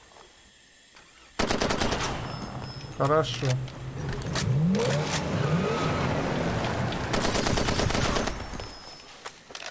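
Bursts of automatic gunfire erupt in Far Cry 2 beside a vehicle, loud and close, with rattling debris and someone speaking briefly.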